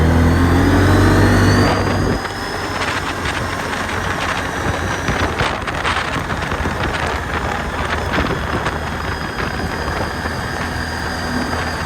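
ATV accelerating off-road over potholes, engine rising loudly then settling into a steady roar with wind buffeting the microphone and bumps along the way.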